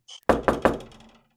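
Three firm, evenly spaced knocks on a door ring out close and clear, preceded by a faint tap, with nothing else in the background.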